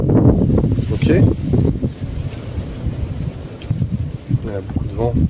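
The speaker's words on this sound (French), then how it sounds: "y a beaucoup de vent." Strong wind buffets the microphone in loud, gusty rumbles, with a person speaking intermittently through it.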